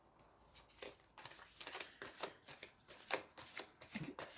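Tarot cards are shuffled close by, a soft, irregular series of riffles and slaps lasting several seconds, with no talking.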